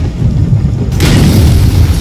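A Semtex charge detonates in Call of Duty: Black Ops, a sustained loud boom with a sharp burst of debris noise about a second in, rumbling continuously throughout.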